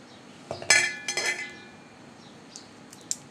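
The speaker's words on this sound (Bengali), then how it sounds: "একটা ছুরির সাহায্যে এভাবে করে আগে সাদা চামড়াগুলো ছাড়িয়ে নিচ্ছি" Knife peeling the white skin off jackfruit seeds, heard as a few close, sharp clinks and scrapes in a quick cluster, then sparse faint ticks in a quiet kitchen.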